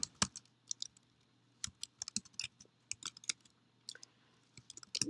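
Quiet, uneven typing on a computer keyboard, with bursts of crisp key clicks and short pauses between them, close and alone without speech.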